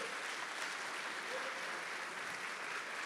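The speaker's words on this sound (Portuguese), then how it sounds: "Dê um aplauso bem forte a Ele." Church congregation clapping steadily in applause during a service, a dense even wash of hand claps with no voices on top, sustained and fairly distant.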